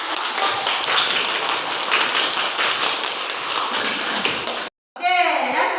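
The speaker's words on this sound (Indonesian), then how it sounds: "Iya, tepuk tangan." Classroom applause from a group of students, a dense steady patter of many hands clapping for several seconds, then a sudden stop followed by a voice speaking.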